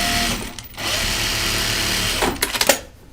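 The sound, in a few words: sewing machine stitching, run by foot pedal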